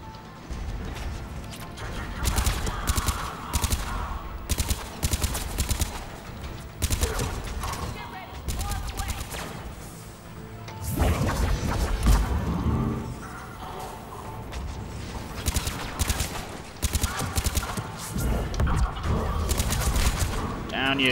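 Sustained gunfire and bursts of combat noise from the video game Mass Effect 3, loud and nearly continuous across the whole stretch, with someone talking over the shooting.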